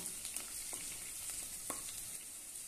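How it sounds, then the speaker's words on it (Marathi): Curry leaves sautéing in hot oil for rava upma, a continuous close frying crackle with a few light stirring scrapes. "थोडासा कढीपत्ता घालूया। सर्व छानपैकी परतून घेऊया।"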